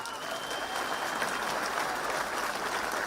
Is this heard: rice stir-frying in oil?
no